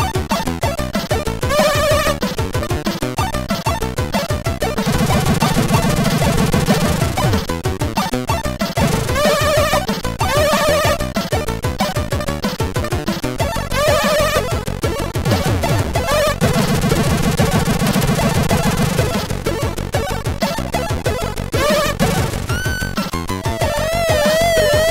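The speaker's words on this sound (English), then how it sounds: "We even get music and sound effects at the same time." Out Run Europa on the Commodore 64 plays chiptune music together with in-game sound effects, a continuous busy mix of bleeping melody and noisy bursts throughout, with no talking.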